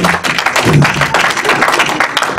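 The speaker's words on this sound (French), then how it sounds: "Acclamez encore une fois le Seigneur" Audience at a French-language religious gathering clapping in acclamation, a brief, loud burst of dense applause with a few voices mixed in.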